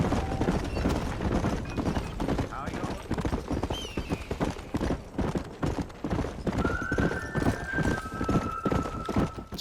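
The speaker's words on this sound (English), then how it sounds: "people just travelling around on the horse and carts" Horse hooves clip-clop steadily and rhythmically alongside cart noise in the video game Red Dead Redemption on Xbox One, with a horse whinnying partway through over a busy outdoor bed.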